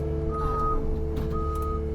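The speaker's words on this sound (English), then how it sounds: "Now you'll hear the beep." A truck's reversing beeper sounds twice, steady high-pitched tones over a constant low diesel engine hum, during a permanent pothole repair.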